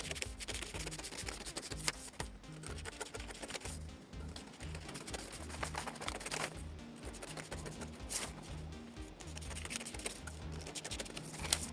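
Scissors cut through fabric for a shawl collar gown, producing faint, close snipping and rustling in an irregular rhythm with soft handling noise.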